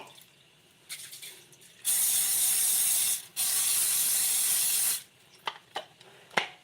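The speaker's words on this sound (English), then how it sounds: "They say don't use the spray on the waffle iron." Two long bursts of aerosol cooking spray onto a waffle iron hiss, close and loud, split by a brief pause, with faint clicks and handling noises before and after.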